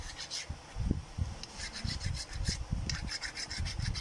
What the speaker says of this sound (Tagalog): pero para mas maganda ang pantay siyang linisin, pwede na itong file gamitin.